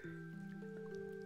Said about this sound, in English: It is raining too hard!